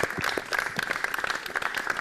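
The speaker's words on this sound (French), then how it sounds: "Méritez un applaudissement, s'il vous plaît," A studio audience on a Mauritius Broadcasting Corporation artist show claps loudly and continuously, many hands making a dense, lively patter that carries through the whole stretch without talk.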